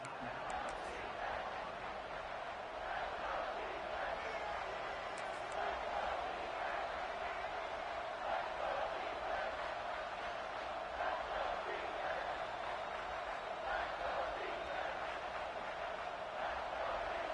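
A dense, steady stadium crowd roar fills an American football video game during a third-down red-zone play, holding at an even level throughout without clear peaks.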